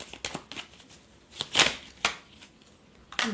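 Tarot cards drawn and handled from a deck during a reading: several soft papery slides and flicks at an irregular rhythm, close and quiet, with no talk.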